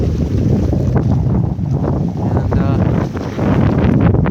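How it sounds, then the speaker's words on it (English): Strong wind roars across the microphone aboard a sailboat on a beam reach in Puget Sound, a loud continuous rushing with gusty swells and water noise beneath, a voice faintly present. "picking up a fair amount of wind"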